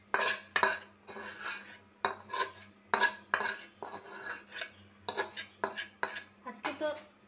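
Dried fish bhuna being spooned from a pan into a bowl, with repeated clinks and scrapes of a metal spoon against cookware in an uneven rhythm, close and fairly quiet.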